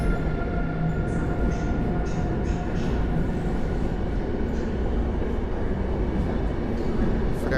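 Siemens Vectron locomotive hauling a passenger train at Warsaw Central station, a continuous loud rumble of rolling wagons and engine drone echoing in the underground platform, with faint voices in the background.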